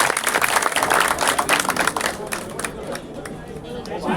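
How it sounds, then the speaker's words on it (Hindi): A crowd claps loudly to welcome MP Kamaljeet Sehrawat at the opening of a BJP election office in Janakpuri. The dense applause runs beneath murmuring chatter and tapers off toward the end. "जोरदार तालियों से स्वागत करिए बहन जी का"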